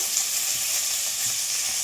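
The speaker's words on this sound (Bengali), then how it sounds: "লাল লাল করে ভেজে নেব পেঁয়াজটা" Onion and green chilli frying in hot mustard oil make a continuous, even sizzle close by, loud and unbroken with no voices.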